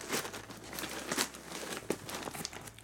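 Heavily taped cardboard packaging for an Ernie Ball PowerPeg string winder being torn open, giving close, continuous crinkling and ripping with a few sharper tears.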